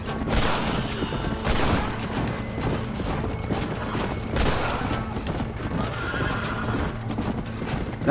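Horses in the video game Red Dead Redemption gallop with busy, rhythmic hoofbeats and let out loud neighs, over mechanical rattling and clatter from the game.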